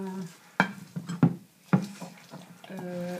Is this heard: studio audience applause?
no